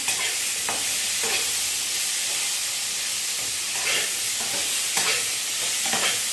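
Steady hissing sizzle of food frying in a wok, broken by occasional scraping stirs, close and continuous with no talking.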